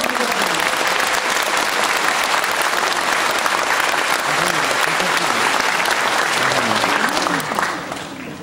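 A large audience at a New Year ceremony applauds loudly and steadily. The dense, continuous clapping fades out at the very end, with voices faintly underneath.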